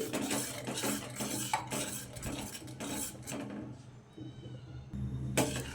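A spoon stirring custard in a metal pan, with steady scraping and clinking that goes on continuously, close and clear, a short pause near the end, then a final scrape.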